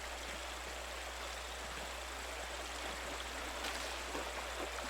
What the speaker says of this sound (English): The waterfall must flow down from the snow-melted mountains above the abbey